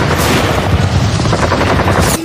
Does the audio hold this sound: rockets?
yes